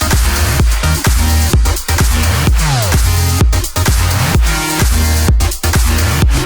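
An electronic music drop plays with its melody stripped out, leaving pounding kick drums and a heavy bass pattern in a loud, steady repeating groove with sharp rhythmic breaks.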